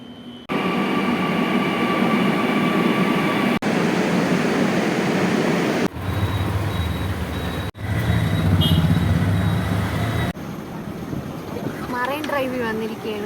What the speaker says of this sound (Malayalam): അങ്ങനെ നമ്മൾ ഫസ്റ്റ് ടൈം മെട്രോയിൽ കയറാൻ പോയി.